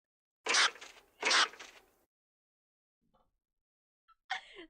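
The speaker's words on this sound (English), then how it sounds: "That's a stoat that feels threatened." A threatened stoat gives two sharp, raspy barks close together, followed by a quiet pause with faint rustles and then a third shorter harsh call near the end.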